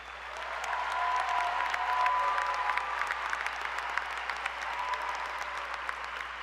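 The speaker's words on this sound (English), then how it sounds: "give everyone who has been a part of this journey, and you, class of 2022, a huge round of applause." Sustained applause from a large audience at a 2022 high school graduation ceremony, a dense, steady wash of clapping that holds at an even level throughout, heard from some distance with no speech over it.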